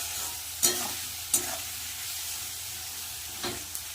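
Onions frying with a little salt in a pan, a soft steady sizzle close by, broken by a few sharp scraping stirs of a spatula, with no talk.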